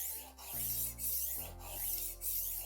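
Tumbler rolling knife sharpener roller stroked along a knife blade, a soft steady rasping rub in a few long passes, close and fairly quiet, with no talking.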